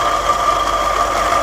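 A 1970s-style MGB GT engine idles steadily at around 700 revolutions per minute just after carburettor tuning, with a continuous, even hum and no talk over it.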